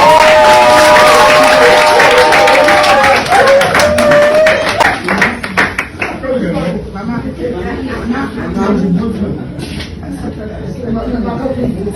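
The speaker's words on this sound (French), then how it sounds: "Applaudissez pour les deux témoins." Wedding guests clap for the two witnesses at a ceremony, a dense patter of applause that swells and then thins out under loud crowd chatter and an amplified voice.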